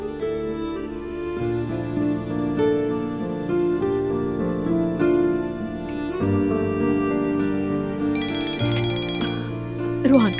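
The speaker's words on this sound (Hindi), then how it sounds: "रोहान का फोन है।" A melodic ringtone plays continuously, layered chimes and tones repeating at steady loudness, close and clear, with no talking.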